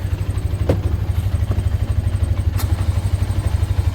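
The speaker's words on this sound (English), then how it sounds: "So we're gonna see if we can't use the winch on the quad" A quad ATV engine runs at a steady, throbbing idle close by while its winch strains to pull a stuck shaft, with a couple of brief metallic clanks and thumps over the rumble.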